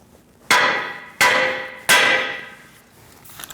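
Three sharp metallic hammer blows strike a Mercedes C300 control arm to free it from the steering knuckle, evenly spaced, each ringing briefly before fading.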